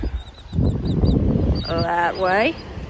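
Seabirds on a Sanibel beach let out a few loud, nasal honking calls close by, over steady wind and surf noise, with a faint higher chirping in the background.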